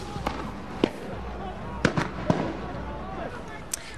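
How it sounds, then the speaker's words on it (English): Tear gas canisters fired during a night riot in Ferguson, a scatter of sharp distant pops and bangs at irregular intervals over a steady murmur of crowd noise. "This is definitely tear gas, and it's being fired in all directions"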